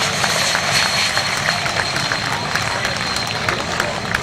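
An aerobatic aircraft engine drones steadily at an air show at Baldonnel, a continuous distant hum with crowd noise and public-address commentary mixed in.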